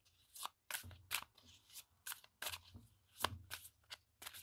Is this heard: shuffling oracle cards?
yes